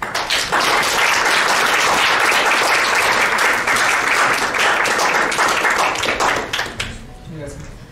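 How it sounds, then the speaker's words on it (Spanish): Audience applause welcoming a guest speaker at a Spanish-language talk on CRIS systems for monitoring publications and researchers; loud, dense clapping from a full room that fades toward the end. "le damos la bienvenida con un aplauso a Joel Al-Huay."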